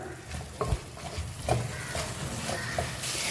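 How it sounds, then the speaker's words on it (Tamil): Chicken pieces sizzle steadily in a hot pan while a utensil stirs and scrapes, with a few clear knocks against the metal. "சிக்கன் பீசஸ் எல்லாத்தையுமே நல்லா மிக்ஸ் பண்ணிக்கலாம்"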